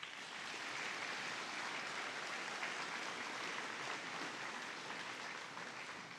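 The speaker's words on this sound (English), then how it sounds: "Please continue to congratulate her with an applause." A large audience at a high school graduation ceremony applauds a retiring staff member, a steady, faint, distant wash of clapping that holds evenly throughout.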